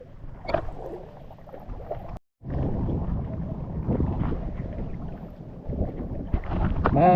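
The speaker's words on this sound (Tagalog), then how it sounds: "Mahangin na." Steady wind rushes at sea off Burias Island, a broad continuous roar buffeting the microphone for the whole stretch, with a brief dropout near the start and gusts swelling toward the end.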